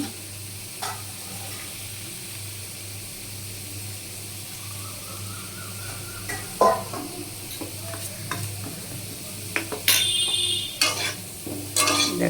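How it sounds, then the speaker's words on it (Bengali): Potatoes fry in hot oil in a pan with a steady low sizzle, broken by occasional scraping stirs that grow busier and louder toward the end. "আমার ভাজা আলুগুলো প্রায় হয়ে এসছে"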